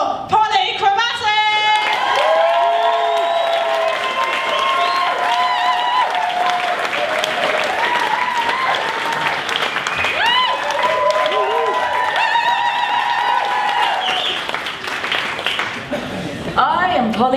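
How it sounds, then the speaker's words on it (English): Loud, steady audience applause with cheering fills a science festival hall for drag performer Chromatik, sustained throughout before tailing off at the end, with people calling out over the clapping. "big round of applause for Chromatik"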